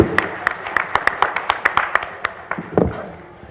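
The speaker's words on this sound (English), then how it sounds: "Let's have a round of applause for the last session." Scattered claps from a conference audience at a live banking and finance conclave, uneven individual hand claps rather than a full ovation, moderately loud over room noise, tapering off toward the end.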